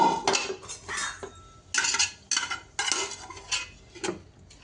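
Curry is scraped and poured into a cooking pot with a metal spoon, giving a run of close clinks, scrapes and knocks against the vessel in uneven bursts, with no talking.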